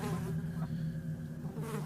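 House flies buzzing around scraps of food lost under a kitchen cabinet, a steady, close, droning hum that wavers slightly as they move, with no voices.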